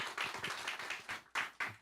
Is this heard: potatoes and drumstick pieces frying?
no